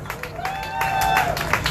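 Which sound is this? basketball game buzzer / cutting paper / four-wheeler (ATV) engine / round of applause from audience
round of applause from audience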